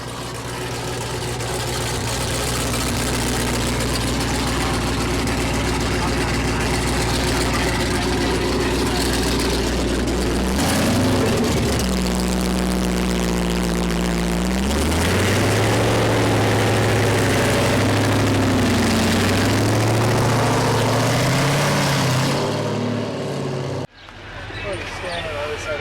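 A heavy bus engine at a car show rumbles loudly and steadily, its pitch shifting as it revs midway, then cuts off abruptly near the end.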